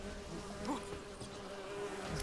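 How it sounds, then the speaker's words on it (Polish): In the video game The Witcher 3, bees buzz in a steady, continuous drone that stays close and fairly quiet throughout, with no talking. "Jeszcze jakieś tu pszczoły są."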